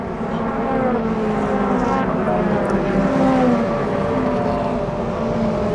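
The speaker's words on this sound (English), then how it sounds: "look at this stream of cars this far into the race" Racing cars in a 750 Motor Club race at Brands Hatch circuit roar past in a steady, loud stream, their engine noise blending into one continuous drone that swells slightly midway.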